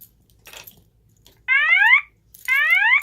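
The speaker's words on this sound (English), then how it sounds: "This is a fire alarm. Please leave the building immediately by the nearest available exit." A Tyco/ADT Safewatch Pro 3000EN fire alarm panel under test sounds two loud rising electronic whoop tones, each about half a second long, with a gap between them. Faint speech is heard before the first whoop.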